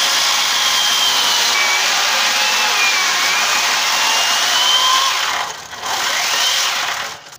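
A chainsaw cuts into a log being shaped into a bear carving, a loud, close, sustained high buzzing whine that holds steady, dips briefly as the blade reaches the edge of the log, then resumes before stopping.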